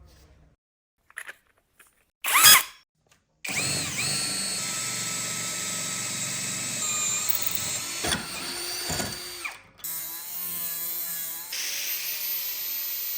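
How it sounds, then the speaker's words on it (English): A 40mm diameter bit drills a hole through the center of a piece being made into a lid for a homemade stove. A steady, loud power-drill whine runs for about ten seconds after a few short knocks. "Now using a 40mm diameter bit,"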